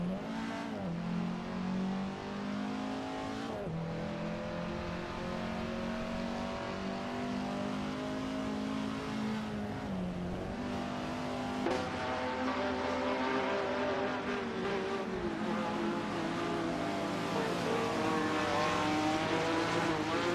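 Race cars lapping the Road Atlanta circuit in a racing video game, engines roaring and shifting pitch as they accelerate, with gear changes and a brief tire squeal. The sound is loud, continuous and close, with no talk.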